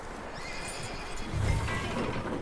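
A horse in the Western video game Red Dead Redemption 2 whinnies and snorts, with a few soft hoof clops, fairly faint and close, with no talking.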